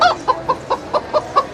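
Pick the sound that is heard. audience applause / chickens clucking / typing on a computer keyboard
chickens clucking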